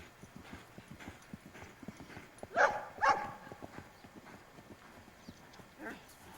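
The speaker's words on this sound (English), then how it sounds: "This is a tired horse." A tired horse's hooves clip-clop steadily on hard ground, with a couple of louder thuds in the middle and faint murmuring in the background.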